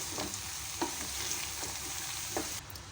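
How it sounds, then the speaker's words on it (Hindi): Chopped ridge gourd is stirred into browned onions in a pan, giving a soft, steady sizzle with three or four quick scraping stir strokes over a few seconds. "इसके अंदर मैं ये तुरई डाल दूँगी। इसको मिक्स कर देंगे।"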